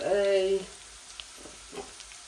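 Garlic fries in hot oil in a pan with a soft, steady sizzle. It starts faintly under a brief voice and then continues quietly on its own.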